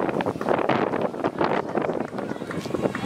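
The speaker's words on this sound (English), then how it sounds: "Very windy up this front straight" Gusty wind buffets the microphone in uneven bursts of rushing noise, loud and close, along the front straight of a running track during a masters mile race, with a faint voice underneath.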